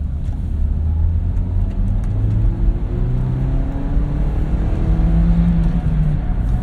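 A car engine drones steadily and rises gradually in pitch as it accelerates to pass another vehicle on the road, with a constant rumble throughout and no talk.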